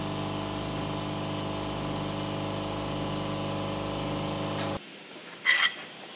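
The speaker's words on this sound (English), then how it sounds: "I will be drilling a hole for the new" Power drill boring a hole in a propshaft protector for a Super 7 Locost kit car build, a steady whirring motor hum that stops abruptly, followed by near silence and a brief squeak.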